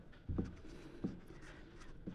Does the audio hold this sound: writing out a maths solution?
yes